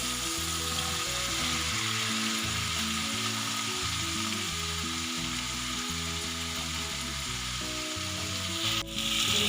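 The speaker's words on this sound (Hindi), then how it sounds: "भिंडी को हम लो आंच पे फ्राई करेंगे 5 से 7 मिनट तक, ताकि टेंडर हो जाए।" Okra (bhindi) frying in a pan with roasted masala over low heat, a steady, even sizzle close by, with background music running underneath and a brief utensil knock near the end.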